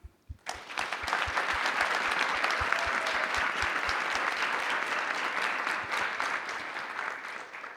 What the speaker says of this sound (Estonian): Ja ma tahaksin väga suure aplausi just neile kahele teha.